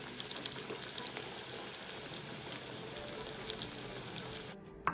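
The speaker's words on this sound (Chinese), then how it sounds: "接着再将剩下的肉块继续油炸至全部完成" Pork rib pieces coated in fermented red bean curd deep-fry in hot oil with a steady, dense crackling hiss, close and even throughout, cutting off abruptly just before the end.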